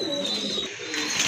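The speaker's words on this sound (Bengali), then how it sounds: "খুবই সুইট কিউট এক জোড়া কবুতর" A pair of pigeons kept for sale coos in low, steady, rolling calls, close and clear throughout the moment, with no voices over them.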